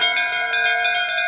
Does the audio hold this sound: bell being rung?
yes